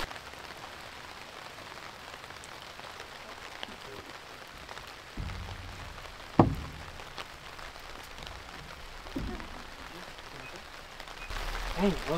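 Steady rain falling outside a shipping container workshop, a continuous broadband patter with occasional louder knocks and bumps throughout.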